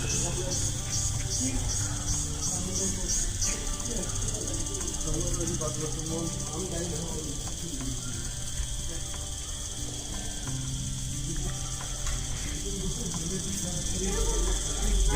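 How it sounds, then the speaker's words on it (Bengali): A steady, high-pitched insect drone of crickets chirping continuously at night in an eco-tourism forest lodge, with a faint rapid pulsing, behind a soft murmur of voices. "শুনতে পাচ্ছ আওয়াজ ঝিঝি পোকার?"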